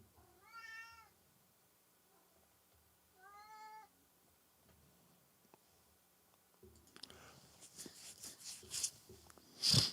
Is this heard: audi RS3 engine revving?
no